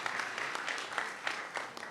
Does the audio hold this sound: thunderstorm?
no